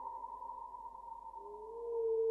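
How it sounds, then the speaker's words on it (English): Ominous music plays over UFO footage, a quiet sustained eerie drone with a slowly rising pitched tone near the end, and no talking. "let's enjoy it with some ominous music real quick"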